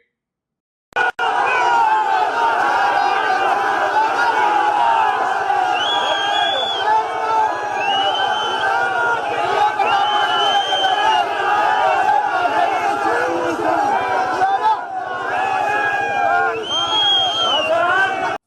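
A large, dense crowd arriving at a PTI political rally in Lahore roars steadily with chanting, shouting and cheering, loud and close throughout, with only a brief dip near the end.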